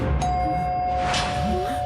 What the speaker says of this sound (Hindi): हाँ यार, डोरबेल की आवाज आई।